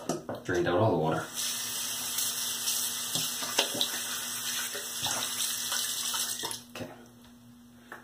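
Water runs steadily from a sink tap and drains away in a bathroom during wet shaving, a continuous hiss that fills most of the clip before cutting off near the end, with a brief spoken word early on.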